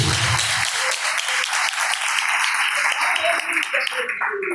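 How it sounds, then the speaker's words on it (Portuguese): A large church congregation claps loudly and steadily throughout, a dense wash of applause with a few voices faintly mixed in. "Pode se assentar, irmãos, e aplaudir o nome do Senhor com as palmas bem fortes para Jesus."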